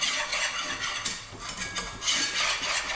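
Sauce for Philly cheesesteak whisked in a pan over low heat: a continuous brisk scraping and swishing of the whisk against the metal, close and busy for the whole stretch.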